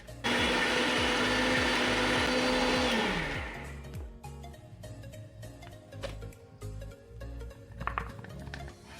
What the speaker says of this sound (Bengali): এই বিস্কিটটা নিয়ে মিক্সার গ্রাইন্ডারে পুরো পাউডার বানিয়ে নিতে হবে